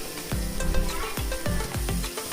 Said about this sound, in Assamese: এতিয়া এইখিনি অলপমান ব্ৰাউন হোৱালৈকে ভাজি থাকিম